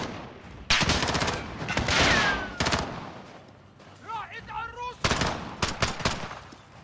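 Gunfire in the video game Call of Duty Modern Warfare: several loud bursts of automatic fire and single shots in irregular rhythm, close and punchy, with game voices talking between the shots.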